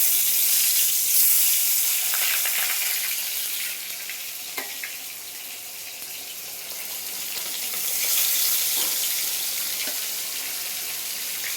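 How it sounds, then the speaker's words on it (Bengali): Poa fish frying in hot oil in a karahi wok give off a steady, loud, hissing sizzle that swells and eases at close range, with no one talking. "তেল গরম হয়ে গেছে, এবার আমি মাছ দিয়ে দেবো কড়াইতে।"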